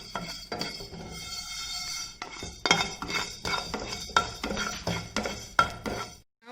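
Rice fries in a pan while a metal spoon repeatedly clinks and scrapes against it in an irregular rhythm, over a soft background hiss. The sound stops abruptly near the end, and nobody speaks.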